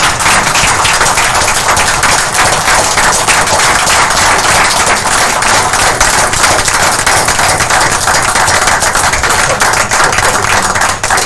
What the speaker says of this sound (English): let's all give him a round of applause